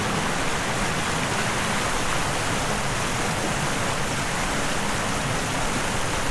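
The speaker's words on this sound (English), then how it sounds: "the lovely sounds of water, the stream that runs into a local reservoir" Loud, constant rush of flowing water close by, a dense hiss with no breaks and no voices.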